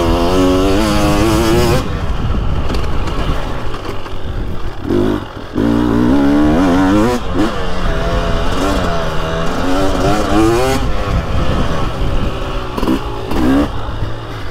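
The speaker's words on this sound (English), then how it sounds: "you can just feel that little sharper, crisper roll on that FMF pipe" A 2023/2024 KTM 300SX TBI dirt bike fitted with an FMF Factory Fatty pipe and Powercore 2.1 Titan silencer revs hard and loud while riding, its engine note rising and falling in repeated throttle surges with brief drops.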